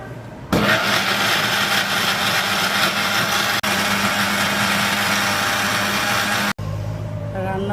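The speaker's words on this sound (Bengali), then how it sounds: "আদা রসুন ব্লেন্ড করে নিব।" An electric kitchen blender grinds ginger and garlic into paste, a loud steady high-pitched whir running almost continuously with two brief cut-offs, then a quieter tail after it stops.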